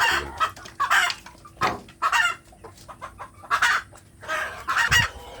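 Free-range village hens cluck in repeated short bursts, an egg-laying hen among them, with the calls loud and close and separated by brief quiet gaps.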